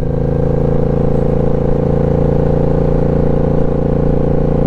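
Yamaha motorcycle cruising along North Georgia country roads on a dry, overcast day, a steady, loud engine drone with a constant low hum and wind throughout, no voices.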